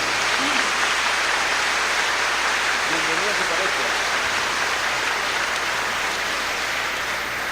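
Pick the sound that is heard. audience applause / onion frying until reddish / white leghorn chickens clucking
audience applause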